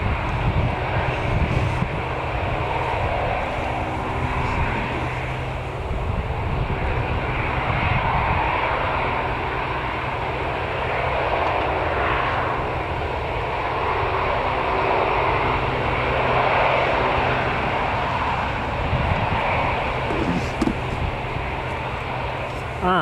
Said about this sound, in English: There's that EasyJet landed there.